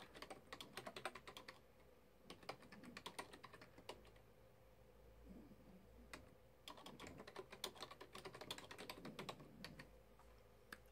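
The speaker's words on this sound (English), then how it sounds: "And you just type whatever you need to type." Typing on a computer keyboard while adding a title screen in Windows Movie Maker: dense bursts of quick, close key clicks with short pauses between runs, no voices.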